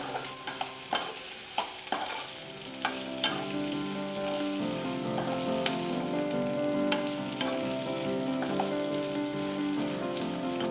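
Bitter gourd sautés in a pan with chilli powder and coriander powder, a steady soft sizzle broken by repeated scraping stirs, close and alone with no talk.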